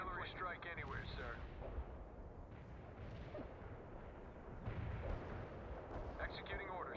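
Artillery strike in the game World in Conflict, rumbling booms and blasts layered under radio-style voice chatter, dense and continuous with bursts toward the start and end.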